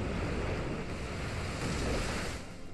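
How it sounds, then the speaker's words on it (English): Muddy Water attack effect from Pokemon Y, a steady rushing surge of water like crashing surf that fills the whole stretch at an even loudness and fades slightly at the end, with no voices. "Let's go for a Muddy Water to lower your accuracy."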